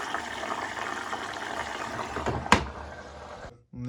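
Water rushing steadily into a washing machine drum as it fills, a continuous close hiss with a sharp knock near the end before the flow cuts off abruptly.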